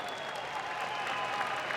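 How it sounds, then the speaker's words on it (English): A crowd applauds continuously for MMA winner Arman Ashimov from Kazakhstan, a steady, dense roar of clapping and cheering in an arena. "A well-deserved round of applause for Arman Ashimov from Kazakhstan."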